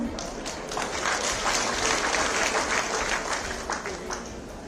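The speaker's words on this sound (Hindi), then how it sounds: "इसलिए मैंने कहा पुरुषों तुम भी ताली बजाओ भाई" Applause at a chief minister's public development event in Jaisinghpur, Himachal Pradesh, a dense steady patter of many hands clapping at moderate distance, holding evenly throughout and tapering slightly at the end.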